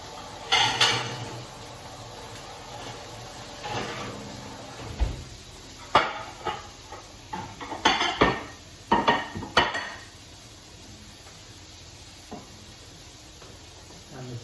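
Plates and dishes being taken out and handled in a home kitchen: scattered clinks, knocks and clatters of crockery, some louder bursts close by, with quieter gaps between.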